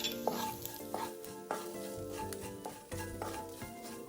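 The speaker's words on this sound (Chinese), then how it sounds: "再加入1点咖喱叶， 接着再加入1大匙黑胡椒粉， 一起爆香" Curry leaves and ground black pepper sizzling in hot oil as they are stir-fried in a pan, a constant low hiss broken by regular scraping stirs, quiet and with no one speaking.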